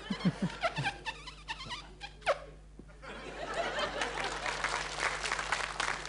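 Claps and laughter from a small group outdoors in a forest, scattered at first, then a dense, steady patter of clapping with chuckles mixed in.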